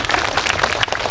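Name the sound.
audience applause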